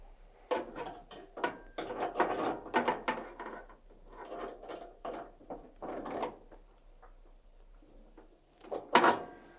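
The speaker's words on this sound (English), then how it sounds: "So I'm gonna come and get the adjustable pliers and come and tighten my gas line." Adjustable pliers tighten the fitting on a gas range supply line, a series of irregular metallic clicks and scraping grips in short bursts, ending with a sharper clank.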